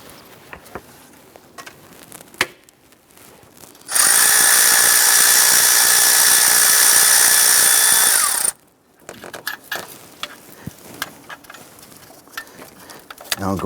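A power tool, likely an impact gun on a 13mm deep socket, loosens the alternator stud on a 2011-2021 Jeep Grand Cherokee 3.6L V6. It gives one loud, steady whirring burst of about four seconds, with quiet shop noise before and after.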